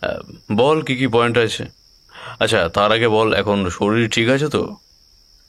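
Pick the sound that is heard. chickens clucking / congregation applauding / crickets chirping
crickets chirping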